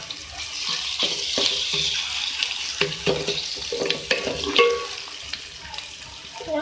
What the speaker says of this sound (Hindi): इसको फ्राई कर लें आप